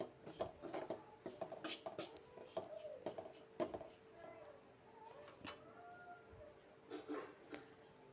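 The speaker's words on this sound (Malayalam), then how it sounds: "നന്നായിട്ടൊന്ന് ഇളക്കി മിക്സ് ചെയ്തെടുക്കാം" Spices for rambutan pickle, including asafoetida, being stirred in a pot, quiet clinks and scrapes of a spoon against metal coming in irregular bursts, with a voice speaking softly in between.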